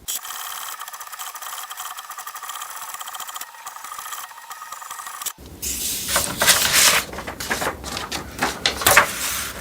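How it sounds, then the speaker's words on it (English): An HP DeskJet 2800-series inkjet printer runs its alignment page: a steady mechanical whir gives way to louder, busier clattering and rattling of the print carriage and paper feed, close and continuous. "printer will now print an alignment page."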